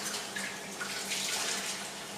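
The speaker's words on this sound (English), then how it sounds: "We're going to add the water in." Water pours in a steady splashing stream into onion bhaji batter, continuous and close for a couple of seconds with no talk.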